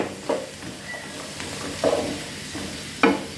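Beans fried in a pan give a low background sizzle, broken by three distinct scraping stir strokes spaced about a second apart, close by and without talk.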